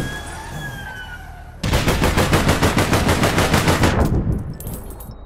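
Loud, close automatic gunfire in the video game APB Reloaded, a rapid steady burst lasting a few seconds after a quieter ambient stretch, then stopping abruptly.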